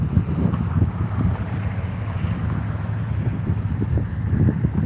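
Steady wind buffets an outdoor microphone on a cold night in Dallas, a continuous low rumble with gusts that swell and ease throughout, with no talking.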